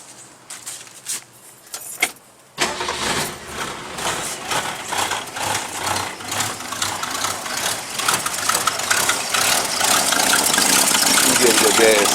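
A 1966 Ford Mustang coupe engine is cranked after a few quiet clicks and jingles, then catches and runs loudly, its idle growing louder and rougher through the rest.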